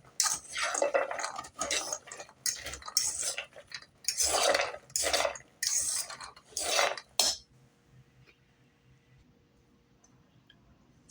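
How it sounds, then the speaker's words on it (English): A spoon scrapes and clinks around a bowl as walnuts are mixed into an egg white coating, in repeated close strokes for about seven seconds before going quiet. "so I'm just going to mix this up"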